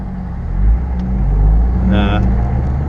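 A Corvette's engine rumbles low and steady close by, heard from inside another car through an open sunroof, with a brief brighter whine rising partway through.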